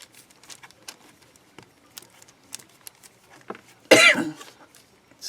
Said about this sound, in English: One day I'll get over this cough.